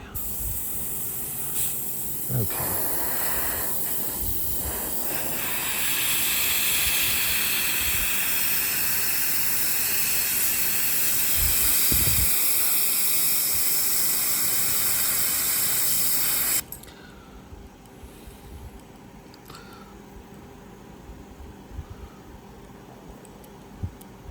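Airbrush spraying paint onto a Storm Giant miniature, a long steady hiss of air close by that swells midway, then cuts off sharply, leaving faint room noise and small clicks.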